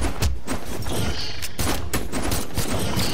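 Rapid game gunfire in Brawlhalla, a dense burst of sharp repeated shots, loud and continuous over a few seconds, with no clear talking.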